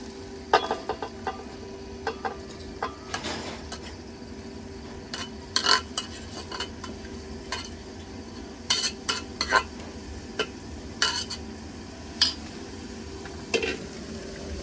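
Green onion and green garlic are stirred as they fry in a pan for baingan bharta, with a spoon scraping and clinking against the metal in irregular strokes over a faint, steady sizzle, close by.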